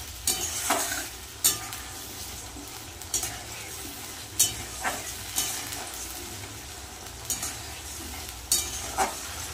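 Chicken and potatoes fry with ground spice paste in a pan, giving a steady close sizzle broken by repeated sharp clinks and scrapes of a stirring spatula against the metal.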